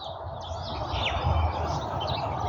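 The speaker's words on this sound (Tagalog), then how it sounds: "Ang cute. Yung parrot na to. Gutom." Hungry pet parrot calling, a few faint chirps and squeaky calls over a low background hum, heard briefly at moderate distance.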